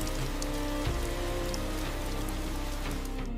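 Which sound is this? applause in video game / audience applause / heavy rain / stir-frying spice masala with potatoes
heavy rain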